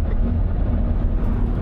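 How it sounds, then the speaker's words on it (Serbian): A tractor engine drives past with a steady, loud low rumble that holds evenly the whole time, with no talk over it. "traktor se čuje, majke mi"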